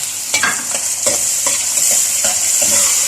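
Chopped tomatoes sauté in a pan with a loud, close sizzle, broken by rhythmic spoon stirs and scrapes roughly every half second over a continuous frying hiss.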